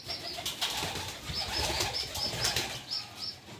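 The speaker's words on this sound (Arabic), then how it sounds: "زي ما انتم شايفين كده الحمام كله هينزل يشرب دلوقتي اهو" Pigeons gather at a water dish to drink, with soft flapping wingbeats, shuffling, and repeated short high chirps over a steady low background, moderately faint and close.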